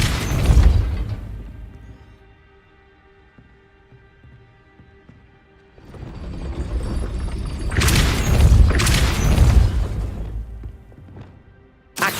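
A Depulso spell blast in the Hogwarts Legacy video game: one booming burst at the start, then a louder run of heavy whooshing blasts and thumps several seconds later before fading.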